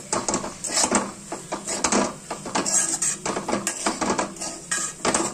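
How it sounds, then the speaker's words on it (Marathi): A spoon scrapes and clatters against a pan while vegetable with salt and fenugreek is stirred, a busy run of close metallic knocks and scrapes without talk. "आणि हे छान आता मिक्स करून घेते"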